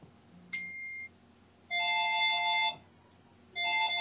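A mobile phone ringtone goes off during a bridge lesson, sounding as two bursts of bright electronic melody separated by a short quiet gap, with no one speaking over it.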